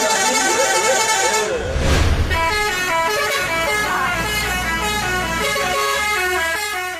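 A bus sounds a musical telolet horn, playing a bright, continuous melodic tune of stacked horn tones for about seven seconds, loud and close, with a brief rumbling engine burst partway through.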